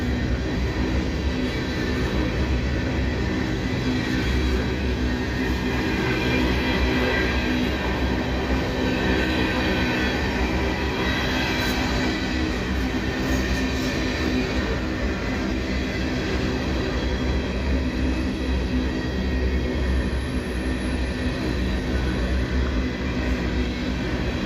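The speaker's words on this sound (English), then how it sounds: "this was a unit train, and usually they just turn it around and bring it back with all the engines and all the cars" A freight unit train rolls past on the rails, a steady loud rumble of wheels and cars with clanking and faint squeals throughout, continuous and close with no pauses.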